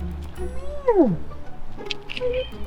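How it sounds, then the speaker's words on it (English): A cat lets out a single close meow that slides downward, with other soft noises around it. "There's a kitty."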